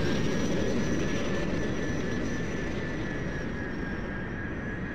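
Aircraft in the MechWarrior Living Legends game fly overhead with a steady, loud engine drone. A sustained high whine rides over the rumbling body of the sound, and it holds evenly for several seconds.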